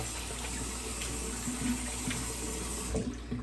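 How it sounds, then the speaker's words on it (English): Water runs steadily from a tap over hands being rinsed in a sink after a straight razor shave, a continuous splashing hiss at close range with a few brief heavier splashes, stopping near the end. "Let me rinse my hands off here."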